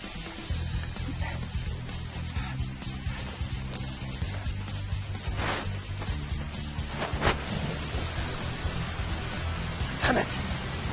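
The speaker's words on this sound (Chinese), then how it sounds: "下雨了，太好了！" Rain falls steadily in a broad, even hiss with a few louder gusts or distant rumbles, while a low background hum runs under it.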